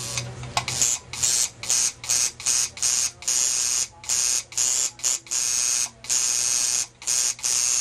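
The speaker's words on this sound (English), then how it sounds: "the other tattoo machine, which is a 4 needle" A four-needle tattoo machine buzzes loudly in repeated bursts of roughly half a second each, switching on and off in a quick stop-start rhythm, with a low electrical hum from the power unit underneath.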